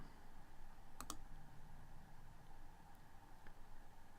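A pair of quick, sharp computer mouse clicks close together near the one-second mark, with a faint single tick later, over a steady low background hum and no talking.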